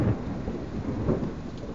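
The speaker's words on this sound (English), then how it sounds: "Oh, the rain's getting worse." Heavy rain pours during a violent thunderstorm, a steady roaring wash of noise with deep rumbling underneath and no voices.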